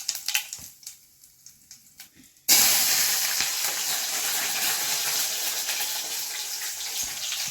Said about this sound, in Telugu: కొద్దిగా పోపులోకి అయితే జీలకర్ర వేస్తున్నాను